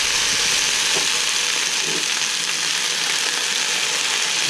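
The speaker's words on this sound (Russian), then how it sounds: "О, уже жарится" Potatoes fry with pork fat in a hot pan, a steady, continuous loud crackling hiss with faint occasional scrapes.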